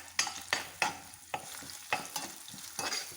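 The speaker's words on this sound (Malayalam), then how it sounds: "ഒഴിച്ചതിന് ശേഷം 2 പച്ചമുളക്, കറിവേപ്പില ഇതൊന്ന് വഴറ്റിയെടുക്കണം." Green chillies and curry leaves sauté in sunflower oil under a steady sizzle, punctuated by about eight sharp scraping strokes of a spoon against the pan, close up and with no talking.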